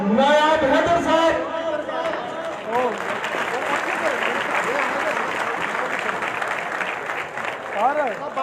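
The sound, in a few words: audience applauding a guest invited to the stage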